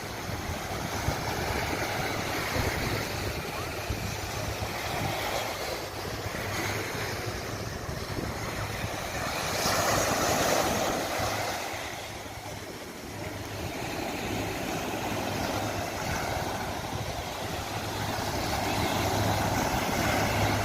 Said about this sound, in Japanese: この波の音を聞いてください。